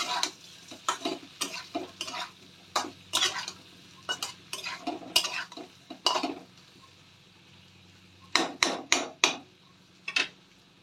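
Potatoes and pointed gourd frying in a pan while being stirred: repeated sharp spatula scrapes and knocks against the pan in an uneven rhythm over a low sizzle, close by, with a short lull before a final burst of stirring.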